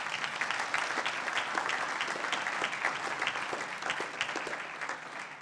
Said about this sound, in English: So please give yourselves a round of applause because you deserve it